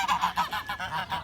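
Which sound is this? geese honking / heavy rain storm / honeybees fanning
geese honking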